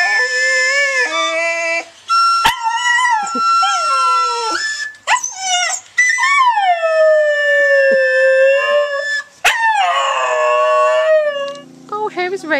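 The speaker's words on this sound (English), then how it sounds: "Singing dog." A dog in Thailand howls in long, wavering, melodic rises and falls, with brief yips and whimpers between, loud and close, with no other sounds.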